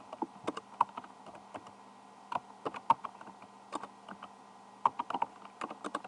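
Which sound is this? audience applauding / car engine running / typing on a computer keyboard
typing on a computer keyboard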